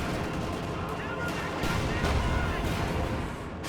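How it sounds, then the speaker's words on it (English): Rocket barrage from a P-43 strike in Company of Heroes 2, a dense, continuous rumble of launches and blasts with a swell in the middle, booming steadily without clear gaps. "And MisterEasy calls in a P-43 rocket strike there."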